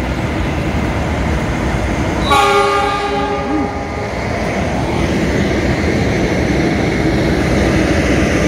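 A KRL Jayabaya commuter train runs past near Jatinegara station in Jakarta, its horn sounding a loud, sustained multi-tone blast over the continuous rumble of the cars rolling along the track.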